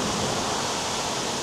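Trusetal waterfall heard from the front as a steady, dense broadband rush of falling water, continuous and close with no voices.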